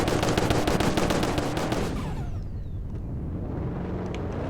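Engine of a car in a Roblox rally game, a loud, dense rattling roar in the first half that gives way to a steadier, lower drone, with no talk over it.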